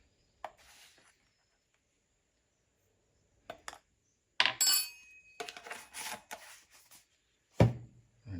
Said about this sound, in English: I'm gonna add 4 scoops of the grit to this.